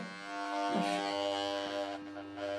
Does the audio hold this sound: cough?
no